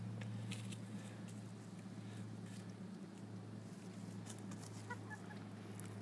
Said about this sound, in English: You can tell they're free range happy birds